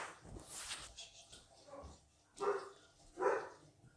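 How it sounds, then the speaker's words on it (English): A neighbour's dog barks several times at a distance, single sharp woofs spaced out over a few seconds, with quiet background noise between them. "My dog's barking."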